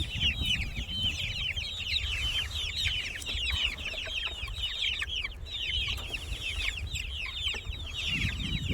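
Chickens cluck around a chicken tractor in a busy, overlapping chorus of short, high clucks and chatter, close and continuous over rustling and low background noise.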